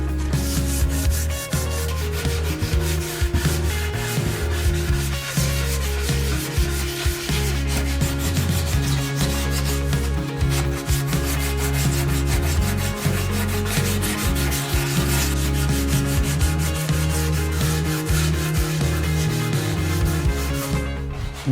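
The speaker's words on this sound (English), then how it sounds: "So I take 600 grit, wet sander and a wet sanding session" Steady, continuous wet sanding with 600 grit sandpaper across a primed bike frame, with constant back-and-forth strokes over a low background hum for the whole stretch.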